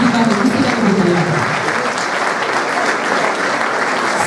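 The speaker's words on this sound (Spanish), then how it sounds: "Así que este aplauso también" An audience applauds throughout a Christmas gala concert by the Puntallana municipal music band, a dense, steady wash of clapping from a large crowd, with a faint tonal murmur early on.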